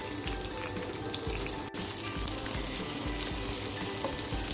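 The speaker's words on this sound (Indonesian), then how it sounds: "Sekarang akan saya tumis ya." Sliced garlic, shallots and galangal sauté in hot oil, giving a loud, dense, continuous sizzle that holds steady throughout with one momentary dip.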